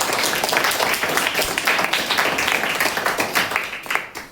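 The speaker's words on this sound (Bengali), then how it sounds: "হাততালি।" An audience in a school hostel hall applauds together, a dense steady patter of many hands clapping close and fairly loud for several seconds without talk.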